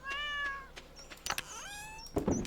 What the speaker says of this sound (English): Kitty wants to know too.